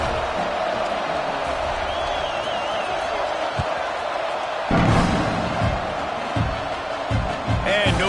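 Stadium crowd in College Football 26 during an Alabama at Oklahoma game, a steady broad roar with a louder swell midway and scattered thumps, running under a commentator's talk.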